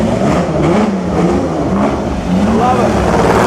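A 12-cylinder Maserati birdcage race car at a concours d'elegance gives a loud, close engine drone with rising and falling revs, and voices are heard faintly underneath.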